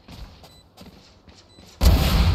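Vandal rifle fire in the shooter game Valorant: several sharp, fairly quiet shots in an irregular rhythm, followed by a sudden, much louder sustained burst of blasting.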